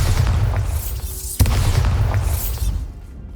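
In the video game Hogwarts Legacy, a Bombarda spell detonates with a deep, rumbling boom and a sharp crack, then the blast fades into a rolling low roar and settles.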